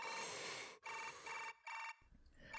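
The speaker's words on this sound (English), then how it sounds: "The sound was from my new smartphone." Smartphone ringtone in the visual novel Chaos;Child, a bright electronic melody playing in short bursts with brief gaps, clear and alone.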